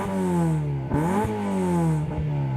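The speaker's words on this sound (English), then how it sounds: "this is by far one of the loudest cars I've ever probably heard or ever had the pleasure of driving" A very loud car engine revs hard and close, a droning harmonic roar that climbs and drops in pitch with brief shifts between revs.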